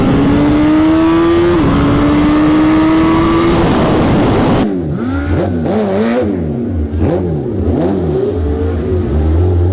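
A 2022 Suzuki Hayabusa at a drag strip revs loudly around 4,000 RPM with launch control off, then launches hard, its engine note rising and falling through rapid gear changes, close and dominant throughout.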